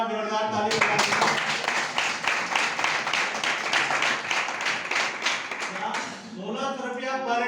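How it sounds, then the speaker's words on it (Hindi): An audience at a business presentation bursts into loud, dense applause that lasts about five seconds, with voices just before and after. "इसके मामू के लिए तो एक बार जोरदार ताली बजा दीजिए"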